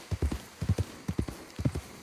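Horse hooves clip-clopping in Red Dead Redemption 2, a close, steady rhythmic trot of paired thuds repeating evenly throughout.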